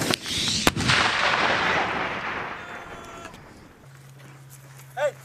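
A rocket launched during the Balikatan 2019 military exercise gives a sharp blast followed by a long, loud roaring rush that slowly fades into the distance, with a voice briefly heard at the end.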